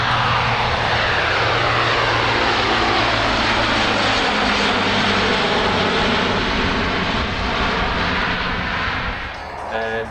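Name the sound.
C-17 Globemaster III jet doing a slow pass at airshow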